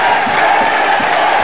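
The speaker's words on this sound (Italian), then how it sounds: "E comincia a scaldarsi anche il tifo leccese" Lecce football supporters in the stadium during a 1987/88 match against Taranto, a dense, steady roar of crowd chanting and cheering filling the space without pause.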